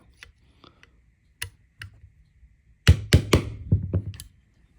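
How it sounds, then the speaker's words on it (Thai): A steel punch hammered through a pin on a Blow F92 blank gun gives several light metallic taps, then a quick cluster of louder sharp knocks close by, with no talking. "ตอกให้ทะลุออกไปเลยนะครับ"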